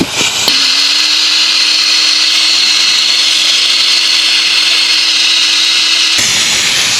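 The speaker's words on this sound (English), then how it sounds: "We're gonna put a vac on the system, fill it full of coolant, run it." Vacuum pump pulling a vacuum on a Ram Cummins truck's cooling system starts with a click and runs as a steady, loud, high whining drone for about six seconds, then cuts off abruptly.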